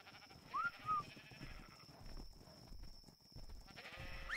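Sheep in Ark Survival Evolved bleat in short cries while attacking a triceratops, mixed with game noise and a steady high whine.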